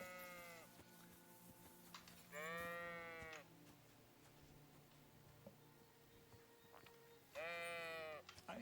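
Two loud sheep bleats from the video game Kingdom Come: Deliverance, the first around the middle and the second near the end, each a wavering drawn-out call over a low ambient hum.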